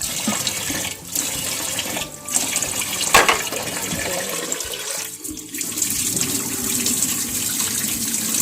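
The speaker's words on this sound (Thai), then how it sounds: "ล้างไปเลยนะคะทักสามสี่น้ำค่ะ ที่ต้องล้างให้ข้าวใส" Rice being rinsed in water for a Thai sweet sticky rice with longan dessert: steady splashing and running water with occasional sloshes and swirls, close and continuous, with no talking.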